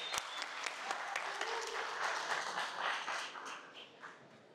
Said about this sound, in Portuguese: Uma salva de palmas pro Barra, por favor.